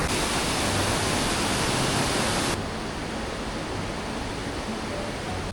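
A big waterfall in the Valley of Flowers, India, roars as a steady, dense broadband rush, loud throughout, dropping slightly in level about halfway through with no voices.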